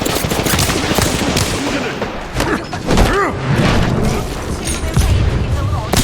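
Gunfire rattles in Apex Legends, with bursts of rapid shots, thuds and booms in a dense game mix while players talk over the action.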